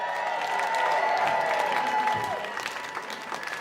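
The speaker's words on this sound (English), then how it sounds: "let's get a slow clap going for your Mishkan, Purim, Spielers!" An audience at a live Purim spiel taping applauds and cheers, a dense, steady wash of clapping with whoops that fades slightly toward the end.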